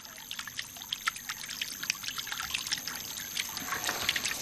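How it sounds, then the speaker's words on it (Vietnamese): Water trickles and babbles softly in a fountain channel at the Alhambra palace in Granada, a steady bright patter of small splashes with no voices over it. "Nếu tập trung vào tiếng róc rách thì thầm của nước, thì ta sẽ không nghe thấy âm thanh nào khác nữa"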